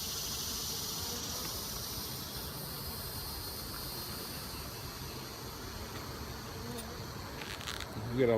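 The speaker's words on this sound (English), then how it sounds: "They have been some busy bees." Honey bees swarm around an open beehive frame in late June, a steady, dense buzz that holds evenly throughout with a brief louder rustle near the end.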